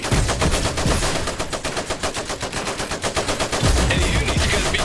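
Rapid machine gun fire in the strategy game Iron Harvest, a continuous rattling stream of evenly spaced shots that stays loud and close throughout, with heavier booms near the start and end.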